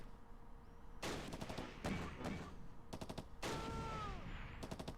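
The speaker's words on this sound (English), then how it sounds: "I hear an MP40 up there." Bursts of MP40 submachine gun fire in a Close Combat World War II strategy game, several short rapid volleys separated by brief pauses, loud and close with clattering echoes.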